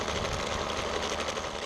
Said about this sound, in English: I'm just barely idling the trimmer